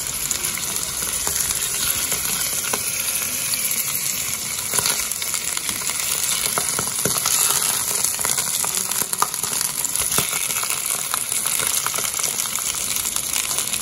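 African plums (prunes) frying gently in oil in a pan, a dense continuous sizzle and crackle close up, with scattered pops throughout.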